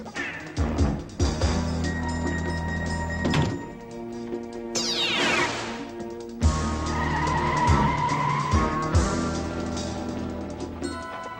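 Automan's glowing auto car skids and swerves, tires squealing in loud bursts over a dramatic music score, with a thunk and a sweeping whoosh midway.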